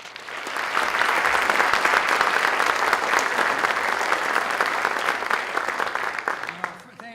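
Audience at a downtown civic event gives a warm, sustained round of applause, loud and steady for several seconds before tapering off at the end.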